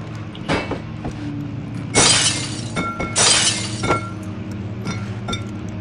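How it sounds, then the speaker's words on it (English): Glass smashes twice inside Amnesia: The Dark Descent as a box is swung into it, each impact a loud bright shatter with tinkling shards, over a low droning game ambience. "I'll smash some glass with it."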